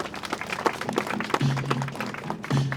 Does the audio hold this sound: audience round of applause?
yes